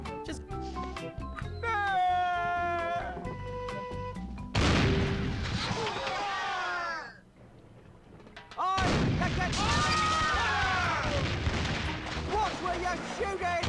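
Cannons boom aboard a pirate ship in The Curse of Monkey Island, heavy blasts bursting in over music and a character's voice, fading briefly before another loud volley.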